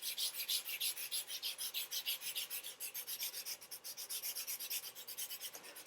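Charcoal stick sanded to a point for drawing, a soft rhythmic rasping of quick back-and-forth strokes, close and steady with no talk throughout.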